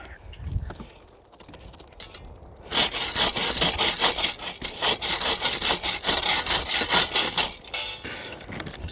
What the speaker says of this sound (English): I think I'm going to use the buck saw.